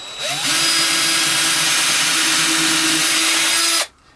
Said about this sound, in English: I am going to just drill these holes